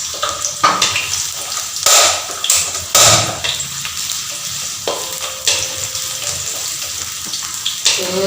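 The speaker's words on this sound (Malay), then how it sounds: "So what I do first is fry the 10 pieces of shallots." Shallots sizzle and crackle in hot oil, with bursts of louder frying and occasional stirring clatter, close up and without speech.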